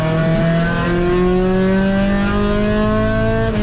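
Race car at NCM accelerating hard on track, engine note climbing steadily through the gears, loud and close with a continuous rising whine and no talk.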